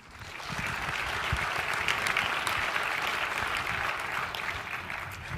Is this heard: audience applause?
yes